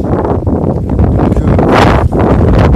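Loud outdoor wind gusts buffet the microphone in a dense, continuous rush that swells and dips over a few seconds, with only a single word spoken.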